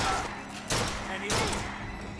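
In the video game Bioshock Infinite, two loud, sharp gunshots ring out about half a second apart, with someone talking around them.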